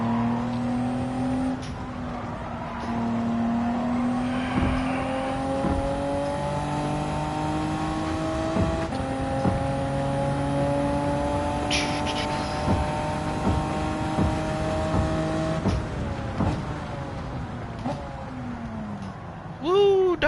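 A twin-turbo Mitsubishi GTO racing on a Tokyo circuit in Gran Turismo 7, its engine droning steadily at high revs with pitch shifts through gear changes, continuous and close for the whole stretch.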